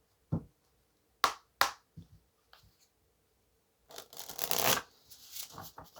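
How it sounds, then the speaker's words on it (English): Oracle cards from a new deck being handled and shuffled, heard as a few sharp separate flicks and taps followed by a longer riffling flutter, close and quiet. "I'm actually going to grab some cards from this new deck."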